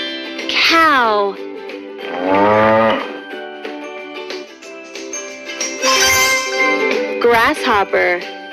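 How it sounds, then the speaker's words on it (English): A cartoon cow moos in long, loud bellowing calls, several drawn-out lowing sounds close up over a light musical backing with jingling tones. "Cow."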